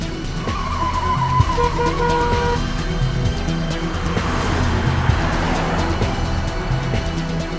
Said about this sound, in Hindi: बस तुम गाड़ी चलाती रहो, गाड़ी चलाती रहो।